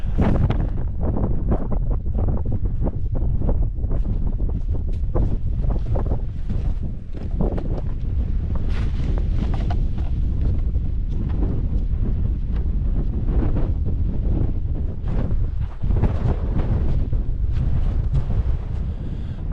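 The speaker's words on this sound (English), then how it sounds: "Again, the wind, it's really bad." Strong winter wind blasts across the Lake District fells near Thornthwaite Crag, roaring loudly and continuously against the microphone in heavy, buffeting gusts with no voices.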